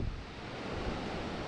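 Waves washing onto a secluded, empty beach beside a campsite, a steady broadband rush of surf mixed with wind buffeting the microphone, continuous and fairly soft with no voices.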